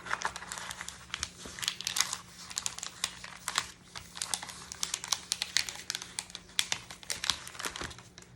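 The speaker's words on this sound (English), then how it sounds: "All right, so I'm going to get my other piece of contact paper." Contact paper crinkles and crumples as it is handled, a rapid series of close, crisp crackles and rustles with no voice.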